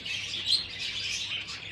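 Birds in a breeding aviary chirp in a dense, steady high twitter that runs throughout, with one slightly louder call midway and no voices.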